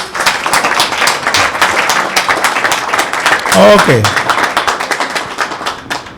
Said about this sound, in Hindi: अगर वो नाम लेता है तो उसके लिए तालियां भी बजाएं।